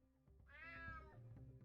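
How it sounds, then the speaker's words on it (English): A cat meows once in the video game UnMetal, a single drawn-out rising and falling cry, faint and close over a low background. "Damn cat."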